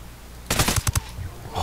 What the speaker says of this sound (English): I'm rushing this place with an MK14.